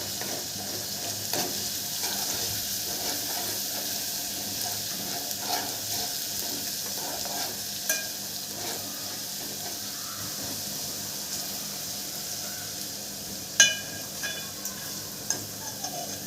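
Garlic and curry leaves fry in a pan while making sambar, giving a steady, close sizzle and hiss with occasional light stirring clicks and scrapes, without talking.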